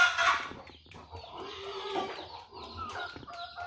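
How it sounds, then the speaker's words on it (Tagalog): Farmyard chickens cluck in a lively, overlapping flurry of short calls, close and fairly loud, with no speech. "nagkakain na si Junjun sa mga alaga nating manok at baboy"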